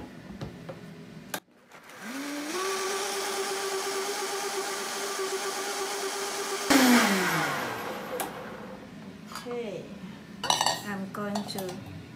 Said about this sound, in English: now I will put the grass into the blender